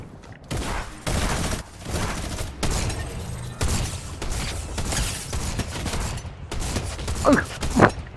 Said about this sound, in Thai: โอ้ปืนนี้มันกระจายว่ะ